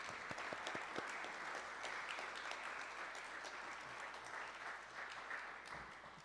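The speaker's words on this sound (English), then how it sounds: "I invite us all to extend an applause to the staff, the board, and our volunteers here at Pequot Library" An audience at the Pequot Library annual meeting applauds staff, board and volunteers, steady, even clapping from a moderate crowd, heard from a distance and fairly quiet, slowly tapering toward the end.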